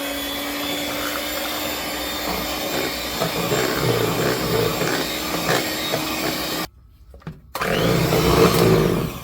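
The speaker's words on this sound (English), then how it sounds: "use our hand blender to mix it properly." A hand blender whirs steadily through blended beans for akara batter, a continuous close motor drone with a brief dip in the middle before it surges back up loud.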